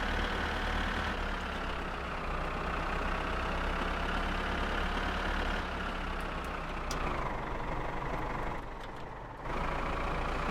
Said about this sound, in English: All right, so the tractor's going back home.